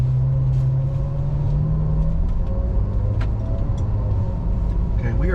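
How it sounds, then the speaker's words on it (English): A 2014 Ferrari F12 Berlinetta engine pulls away in first gear, a steady low rumble that climbs slightly in pitch, heard close from inside the car, with a voice talking over it. "I'm going to engage first gear. I'm going to hit my park brake button. Park brake let itself go, and my foot's on the gas."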